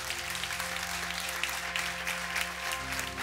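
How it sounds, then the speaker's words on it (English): Church congregation clapping for the Lord during a sermon, a steady, moderately loud wash of hand claps over a sustained low organ or keyboard drone. "give the Lord a big hand clap"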